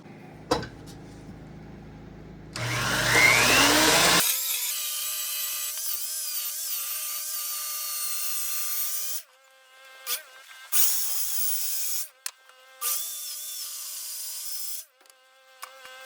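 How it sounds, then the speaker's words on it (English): A power tool drives fasteners into the timber of a post-and-beam front porch, heard as several sustained whirring bursts of varying length separated by short pauses, fairly close and loud. "I'm gonna go ahead and bolt it all together"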